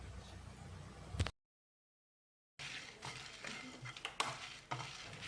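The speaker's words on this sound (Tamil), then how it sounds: "இதையும் போட்டு கருகாத அளவுக்கு 1 நிமிஷம் இதை அளவான தீயிலேயே வறுத்துக்கலாம்." Dry red chillies and ginger pieces stirred and roasted on low flame in a pan, faint scraping and light sizzle with intermittent spatula knocks, interrupted by a short silent gap.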